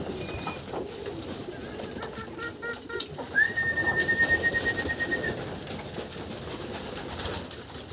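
Pigeons in a loft coo near and clear, soft repeated throaty calls rising in rhythm toward the middle, with a faint high whistle-like tone and light background noise, no one speaking.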